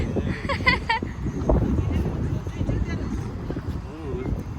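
Wind gusts buffet the microphone outdoors at a family picnic, a steady broadband roar that runs the whole time, with brief voices rising over it near the start.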